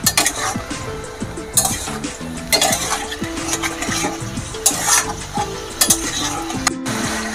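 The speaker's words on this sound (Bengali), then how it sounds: "এই লবণটা দিয়ে নাড়াচাড়া করে নিই।" Vegetables are stirred in a pan after salt goes in: quick, uneven metal spoon scrapes and clinks against the pan over a light sizzle, close and lively, with some faint background music.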